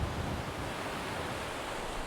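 Wind and surf at a beach in Esperance, Western Australia, a steady, dense broadband roar of breaking waves mixed with wind buffeting the microphone, continuous and fairly loud with no voices.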